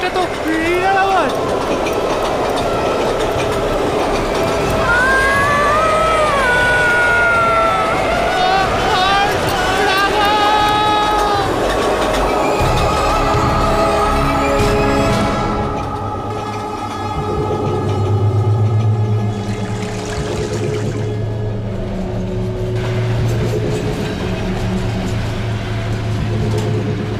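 A passing train rumbles steadily with heavy low-frequency drone and wheel noise throughout, while people talk over it, their voices prominent in the first half before the rumble dominates.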